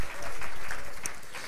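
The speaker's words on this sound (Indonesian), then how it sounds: "Yang ngerti tepuk tangannya meriah buat Tuhan kita" A church congregation at a Sunday worship service claps together in a short, steady burst of applause that fades slightly toward the end.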